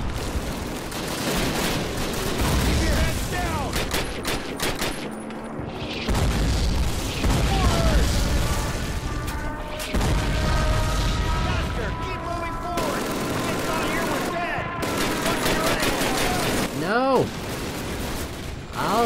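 Rapid bursts of gunfire from a World War II shooter game, Call of Duty, crack and boom almost nonstop at close range, layered with game effects and occasional shouted voices.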